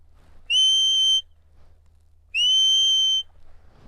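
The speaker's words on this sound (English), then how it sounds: "I also have a steady whistle." Two long, straight, steady whistled notes from a sheepdog handler giving the steady command, each held for under a second, clear and close against a quiet background.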